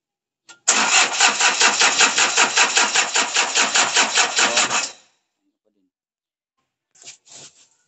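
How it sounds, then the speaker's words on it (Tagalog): A small engine with a white-smoke and misfire fault, just refitted with its valve set, starts and runs in a rapid, even chug for about four seconds, then cuts off; a few brief sounds follow. "So, umandar na to. Dapat one click na yan."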